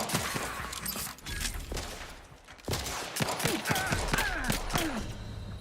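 Enemy gunfire in the video game Outer Worlds 2 on hardest difficulty: rapid, dense volleys of shots crackling in uneven bursts, loud and close, with a brief lull before the firing resumes even heavier.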